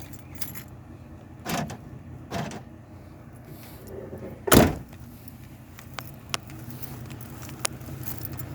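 A single set of car keys with no key fob jangling in a few brief metallic bursts, with a louder clatter near the middle and faint clicks afterward against a quiet background.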